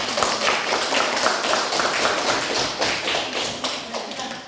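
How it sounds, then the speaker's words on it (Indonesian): Steady, dense clapping from a group of people in a classroom, continuous and fairly loud for several seconds, with no voices over it. "saya tepuk tangan dulu untuk kelompok"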